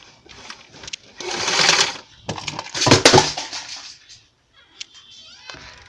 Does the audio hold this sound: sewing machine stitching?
yes